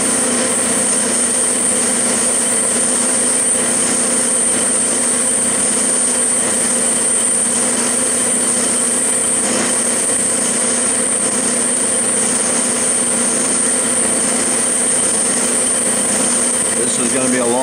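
A metal lathe spinning at about 700 RPM takes a slow finishing cut on a pulley, giving a steady, continuous machine hum and whine with faint cutting noise throughout.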